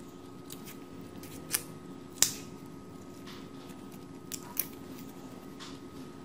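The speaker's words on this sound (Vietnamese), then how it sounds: "Giờ mình sẽ bóc bỏ phần vỏ hành này đi." Papery skins being peeled from soaked white onions in a home kitchen, making a few sharp, crisp snaps and crackles against an otherwise quiet background.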